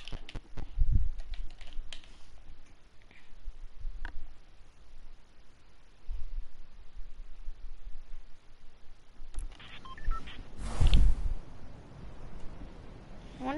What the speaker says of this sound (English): This is all you're going to hear, clicking on me.